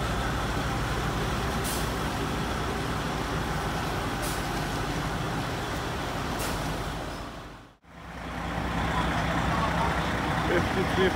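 A heavy truck rumbles steadily close by as it drives onto a ferry at Isla Colón, Bocas del Toro, Panama, with brief hissing bursts like air brakes, until the sound cuts out abruptly for a moment and then resumes.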